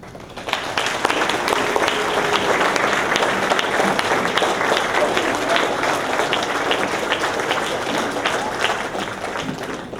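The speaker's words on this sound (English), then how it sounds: "please stand and give a round of applause to the parents" Sustained applause from a standing graduation audience honoring parents at an 8th grade ceremony, dense steady clapping filling the hall loudly for the full stretch with some crowd murmur mixed in.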